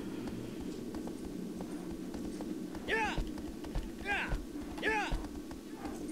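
Horse hooves in the video game Shadow of the Colossus, a rhythmic clip-clop of a horse moving over a low rumbling ambience, joined by a few rising chirp-like calls.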